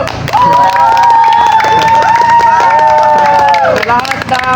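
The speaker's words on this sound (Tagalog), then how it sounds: "Sigaw kayo!" Group of campers shouting together in agreement during a camping activity, a loud sustained burst of many voices with a prominent high yell running through it.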